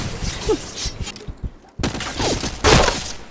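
Rapid gunfire bursts from the first-person shooter game Point Blank, sharp repeated shots in clusters with short pauses, heard alongside faint game sounds.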